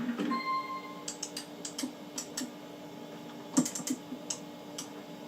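Computer keyboard keys pressed during an Amiga game called Power Tower, heard as scattered clicks and short bursts of taps, close and fairly clear with no talking.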